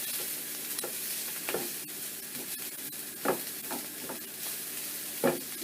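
Food for pulled jackfruit sizzles quietly in a pan while being stirred, a soft continuous fry broken by several distinct scraping strokes of a spoon against the pan at irregular intervals.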